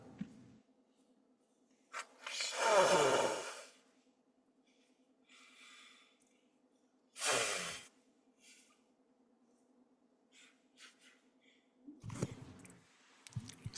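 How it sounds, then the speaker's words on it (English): Two loud, forceful nose blows a few seconds apart, followed by a softer sniffing burst, with quiet rustling and a low hum between. "yeah, I gotta like blow my nose"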